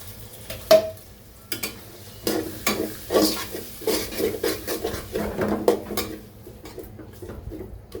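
Ground spice paste goes into a pan of fried potatoes for chicken biryani, with a series of scraping stirs and metal utensil clinks against the pot over a soft, steady sizzle, close and moderately loud.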